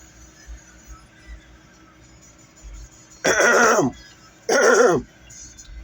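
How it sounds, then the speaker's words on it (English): A man clears his throat twice in two short, loud, rasping bursts, separated by a brief pause over faint background noise. "Let me clear my throat a little bit more."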